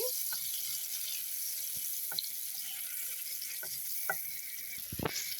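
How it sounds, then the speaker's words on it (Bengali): Chopped onions frying in a pan at medium heat, a faint steady sizzle with a few soft clicks and one louder scrape near the end, no talking. "পেঁয়াজ কুচি দিয়ে দিয়েছি"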